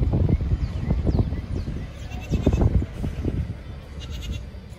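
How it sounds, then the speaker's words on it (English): Eight goats in a high school farm's pasture bleat repeatedly, several overlapping calls close by and fairly loud, over steady outdoor rumble. "We currently have 8 goats."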